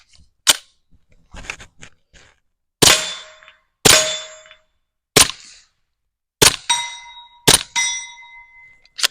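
A suppressed Stribog TR22 fitted with a Rugged Mustang suppressor fires Fiocchi 22 subsonic 40-grain rounds: about seven sharp, close cracks at uneven intervals, each trailing a brief metallic ring, with lighter clicks and handling noise between shots.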